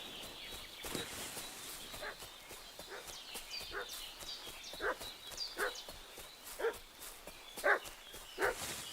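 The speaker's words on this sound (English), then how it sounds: "What's that dog making such a fuss about?" Repeated barking from a dog in the medieval game Kingdom Come: Deliverance 2, a series of separate sharp yelps spaced about a second apart, moderately distant and growing a little louder toward the end, over a steady ambient bed.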